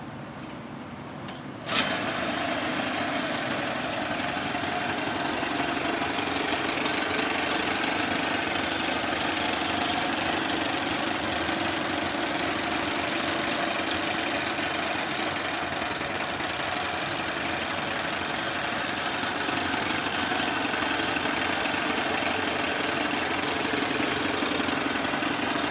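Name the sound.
Johnson 9 outboard boat motor running after repair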